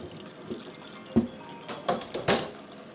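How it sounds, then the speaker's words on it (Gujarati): Cold tap water runs and splashes while homemade paneer is rinsed in a kitchen, with a few uneven bursts of pouring and sloshing over a steady background hiss. "આપણે એકદમ ઠંડુ પાણી લઈ લઈએ કોલ્ડ વોટર ધોઈ નાખીએ"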